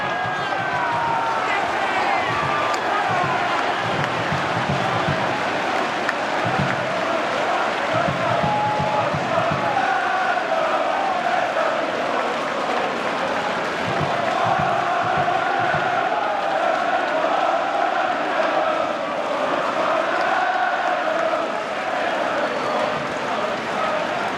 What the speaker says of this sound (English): This crowd are pumped.